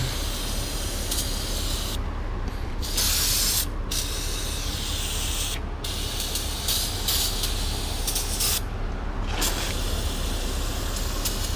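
Brake cleaner aerosol sprayed onto car parts during a coyote engine swap, a continuous loud hiss running nearly twelve seconds with several brief pauses between bursts, close up and steady.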